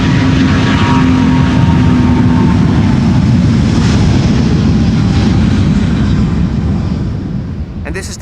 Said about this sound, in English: this is Delta Airlines flight 71 going to Atlanta, Georgia